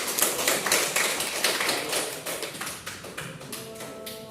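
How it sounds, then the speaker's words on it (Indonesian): Classroom clapping from students thanking a classmate during a lesson, a brisk, steady patter of many hands for a few seconds, tapering slightly toward the end. "Berarti terima kasih untuk Putri, tepuk tangan."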